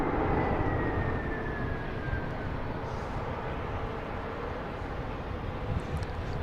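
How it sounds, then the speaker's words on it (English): A UPS cargo plane braking on landing at Boston Logan, a loud, steady broadband engine roar with a faint descending whine, close by and sustained throughout with no talk. "We have that UPS making all the racket over here, trying to slow down."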